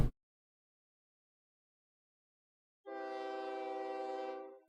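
A train pulling heavyweight coaches in the OpenTTD video game sounds a steady, tonal horn blast of about two seconds after a stretch of silence, clean and fairly loud with no talking.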